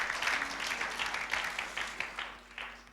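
A church congregation applauding, a dense wash of clapping that rises and falls over a few seconds at moderate distance.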